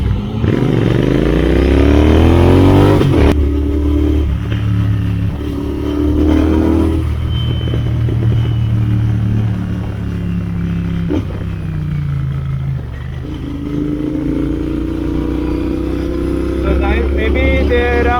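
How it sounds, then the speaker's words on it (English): A lineup of motorcycles, ADVs, TRKs, a Benelli 600i, a Suzuki and a Street Triple RS, idles and revs close by at a riders' meetup, engine notes rising and falling with clatter over about eighteen seconds. "We have 3 ADVs, 2 TRKs, 1 Benelli 600i, 1 Suzuki, and behind is the Street Triple RS"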